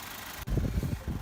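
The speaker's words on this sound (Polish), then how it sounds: "Jeszcze nadal pracuje silnik," A Mazda 2.2 Skyactiv diesel engine (150 hp) idles with low, throbbing pulses starting abruptly after a short quiet moment, close by and fairly loud, during an oil change.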